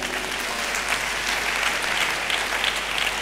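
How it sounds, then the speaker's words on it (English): A church congregation claps together, a steady wall of applause sustained throughout with no pauses, loud and even, with faint crowd murmur beneath. "yes, if you want to clap, please do it well."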